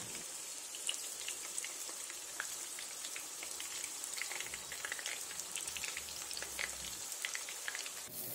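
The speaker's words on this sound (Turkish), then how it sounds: "Şimdi patlıcanları teker teker dikkatli bir şekilde yağın içine atıyorum" Eggplant slices sizzle in hot oil in a pan, a steady dense crackle of bubbling and popping with a hissing high sheen, close and continuous without voices.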